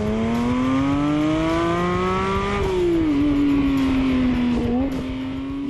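A Porsche 911 Speedster convertible with manual transmission: loud, close engine note that climbs steadily, dips, then holds and rises again, with no talking.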